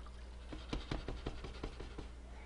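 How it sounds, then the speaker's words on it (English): Water is poured into a cooking pot on the stove to top off pork chops cooking down, a soft splashing patter with a few sharper drips, fairly quiet. "I'm just gonna add some water to this."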